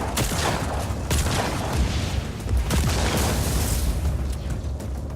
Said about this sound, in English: Look at those goddamn explosions, they're gorgeous